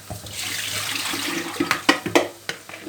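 Tap water runs steadily over dried eggplants being washed in a kitchen sink, with splashing and several clunks and knocks as the vegetables are handled near the faucet.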